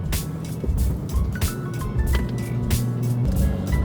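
A BMW F82 M4 with a Remus exhaust driving under power, a moderately loud, deep exhaust drone with rising and falling engine pulses, heard from close by.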